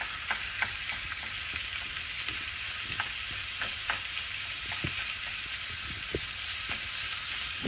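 Ground beef frying in a pan gives a constant, even sizzle with occasional light scrapes and pops from stirring, heard close and steady with no voices.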